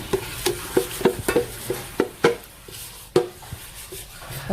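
Meat being mixed with chermoula marinade in a cooking pot, heard as a series of close, irregular wet slaps and clinks of a spoon against the pot, with no talk.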